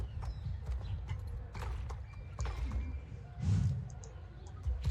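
Horse hooves clip-clopping in the Star Stable video game, a steady close rhythm of clopping steps over a dense low rumble of game sound.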